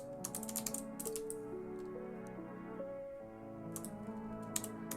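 Computer keyboard typing, with quick bursts of key clicks scattered over a steady background of sustained tones, close and without talk.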